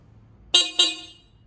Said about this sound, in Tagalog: Next is the horn.